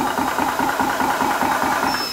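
An HDR 68 high-pressure air compressor running loud and close, its motor thumping in a fast, even mechanical pulse with a steady buzzing drone and no speech over it.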